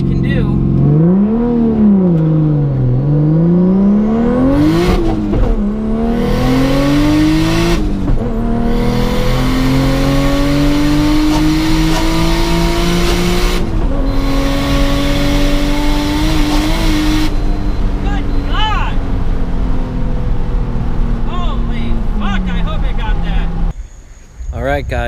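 Lexus IS F with ABS and traction control deleted accelerating hard in a drag run, engine climbing steadily through gears with loud revving and shift breaks over about 25 seconds, close and continuous until a sudden cut at the end.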